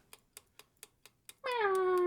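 Cat meows from a cat-finding video game, a series of six short, evenly spaced clicks followed by one loud, sustained meow that slides gently downward.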